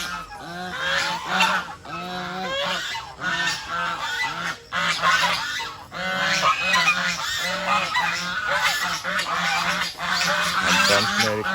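A flock of farm geese honks loudly and almost constantly at close range, with overlapping repeated calls and no pauses.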